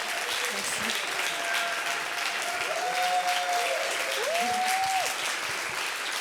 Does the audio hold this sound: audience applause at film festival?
yes